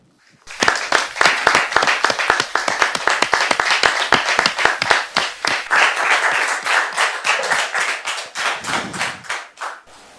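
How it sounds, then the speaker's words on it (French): Audience applause at a French-speaking church gathering, a dense, loud burst of many hands clapping that starts abruptly and runs steadily for several seconds before tapering off. "Et ce sera avec vos applaudissements, s'il vous plaît."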